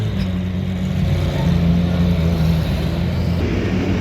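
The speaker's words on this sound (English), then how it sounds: "Here comes a Porsche with the new livery." A Porsche GTP prototype race car in a new livery rolls along the Daytona track during the 24-hour event, its steady engine drone holding fairly loud and close throughout with a low tonal hum.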